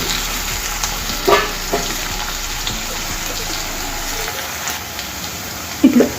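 Chopped onion pieces fry in a pan for masala bread, a steady close sizzle broken by a few sharp clatters of stirring.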